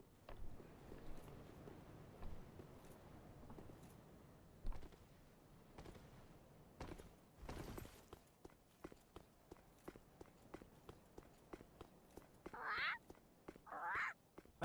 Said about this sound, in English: I started telling this bird to shut up. You literally hear it about 4 or 5 times.